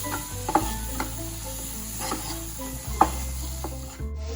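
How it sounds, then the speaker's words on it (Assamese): Tomatoes frying in oil in a pan, a steady close sizzle running throughout with a few sharp stirring scrapes and clicks, no voices. "এতিয়া অলপমান ভাজি 5 মিনিটমান বিলাহীখিনি আলি হৈ যোৱাৰ কাৰণে ভাজিম"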